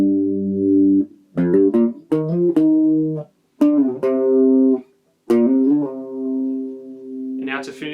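The slow, effects-coloured electric guitar riff from a song plays in several separate phrases with short gaps of silence, each note sustaining with reverb and echo, solo and close.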